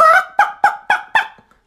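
A person imitates a chicken with five quick, evenly spaced nasal clucks, loud and close, each a short sharp squawk, with nothing else heard around them.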